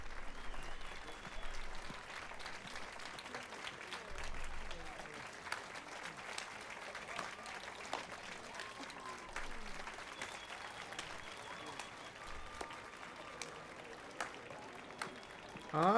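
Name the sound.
audience applause after a song in video game Witcher 3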